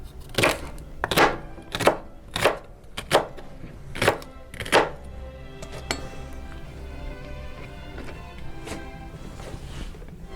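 A knife chops celery on a cutting board for a spring green drink, about seven crisp, close, evenly spaced cuts, then quiet.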